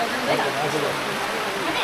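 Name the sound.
rain falling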